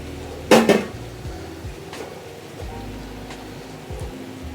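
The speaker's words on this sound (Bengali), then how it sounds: "এবার সম্পূর্ণ মাংসটা এখানে দিয়ে দেবো।" Fried chicken tipped into cooked masala in a pan, a sharp metallic clatter of utensil on the pan at the start, then quieter faint scrapes and light knocks.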